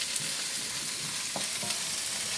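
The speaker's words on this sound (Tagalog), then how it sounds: "Saute." Garlic and onion sautéing in a hot pan, a steady close sizzle and crackle with soft stirring scrapes, no talking.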